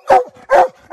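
Coonhound, a Walker or black and tan, barking at a tree at night: two sharp, loud barks close by, evenly spaced, with the start of a third.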